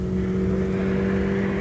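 Vauxhall Cavalier Mk3 2-litre 4x4 turbo driving, a steady loud engine drone with a constant whirring tone heard from inside the car, unbroken throughout.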